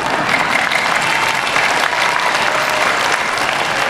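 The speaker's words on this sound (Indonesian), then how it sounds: "Tepuk tangannya gimana gitu." Sustained applause from a large audience, steady and dense clapping filling the space for several seconds.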